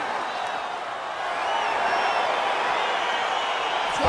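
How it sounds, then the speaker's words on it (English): A crowd in the EA Sports UFC 4 video game swells as the fight begins, a broad roar of cheering rising and holding loud for several seconds. "crowd getting excited as this fight gets underway"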